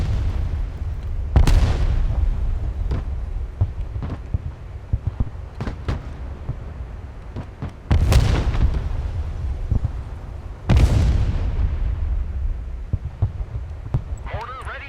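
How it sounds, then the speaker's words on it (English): Artillery fire in the war video game Broken Arrow, with three loud booming blasts spread apart and smaller impacts and clatter between them, while radio voices talk throughout. "Artillery ready to fire, sir."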